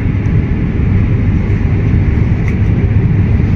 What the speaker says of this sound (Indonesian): Ternyata ini kereta api Matarmaja.